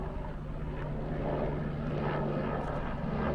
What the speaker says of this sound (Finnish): Siellä tulee taas yksi helikopteri.